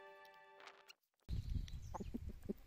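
Chickens in a chicken run let out a short cluck and brief calls, then a busier stretch of low clucking and scratching sounds follows after a moment of near silence.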